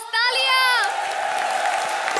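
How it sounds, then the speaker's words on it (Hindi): Studio audience at a Comedy Circus comedy show bursts into applause after a brief rising-and-falling tonal flourish, the clapping then sustained and fairly loud for about two seconds. "तालियां।"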